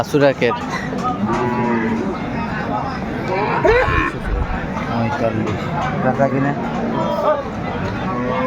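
Cows with calves low and moo repeatedly at a busy rural cattle market, their calls loud and close over steady crowd chatter and people talking nearby.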